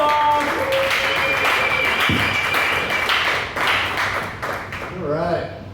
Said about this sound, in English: make it loud again. Start clapping